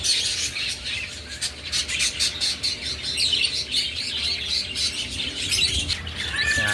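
Small pet birds in a breeding cage chatter and squawk continuously, a dense rapid stream of high chirps close up and fairly loud, with no talking.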